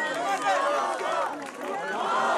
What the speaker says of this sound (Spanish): Sus simpatizantes lo vitorearon como el presidente del pueblo al término del sufragio.